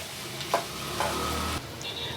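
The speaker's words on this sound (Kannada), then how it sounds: "ಮಿಕ್ಸ್ ಆಗಲಿ ತಳ ಹತ್ತೈತೆ ಸ್ವಲ್ಪ ತಿರುತಾಯಿರಿ" Field beans (avarekalu) in a village-style spicy curry are stirred in a pan with a soft sizzle, broken by a few scraping strokes of the spoon against the base, close and steady, with no voices.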